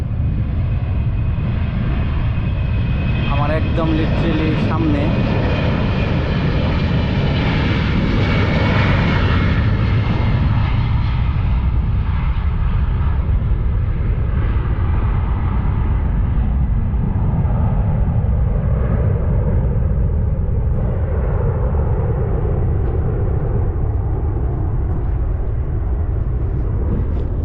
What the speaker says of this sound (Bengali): জাস্ট একদম আমার অল্প দূরেতে বিমানটা উড়ে গেল